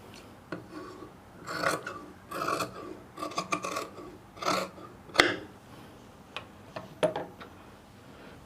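Scissors cut through cloth for sewing in a series of separate rasping snips, with short pauses between them and a sharp click partway through, close and fairly quiet.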